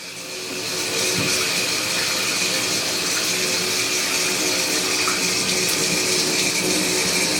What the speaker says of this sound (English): So that is the shower head type scenario.